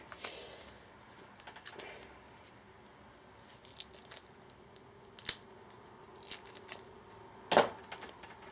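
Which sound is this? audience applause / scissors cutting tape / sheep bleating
scissors cutting tape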